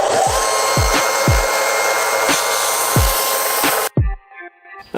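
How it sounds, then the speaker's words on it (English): A power tool whines steadily and loudly while rounding the corners of a small wooden farmhouse tabletop, with repeated low thumps beneath it. It cuts off abruptly near the end, leaving quieter handling sounds. "I'm cutting a radius on all these corners"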